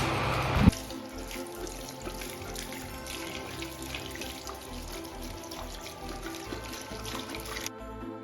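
Tap water runs steadily into a sink while hair dye is rinsed out, a constant close splashing rush with a brief knock near the start, and no voices.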